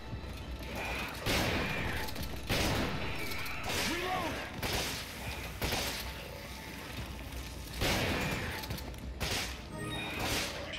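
Enemy gunfire in the Resident Evil 5 video game, bursts of shots and impacts arriving in repeated clusters with crashing hits between quieter stretches, fairly close and harsh.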